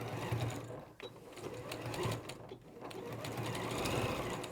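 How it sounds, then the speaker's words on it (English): A sewing machine stitching round fabric for a turtleneck top, running continuously with a fast, steady mechanical whirr close up, briefly slowing twice before speeding on, with no voices over it. "I'm just going to sew that round now"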